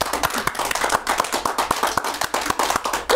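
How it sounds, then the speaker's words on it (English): Sharp, close claps from a small group at a wrestling talk show, a brisk uneven run of distinct hand claps that continues steadily from start to end with no talking. "If y'all give a round of applause"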